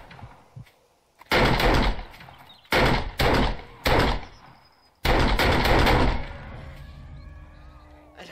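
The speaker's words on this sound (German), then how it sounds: "so viel Schuss" Gunfire in the zombie survival game 7 Days to Die: several loud bursts of shots land as separate blasts with short pauses between, ending in a longer sustained volley that fades out, with faint background game sounds.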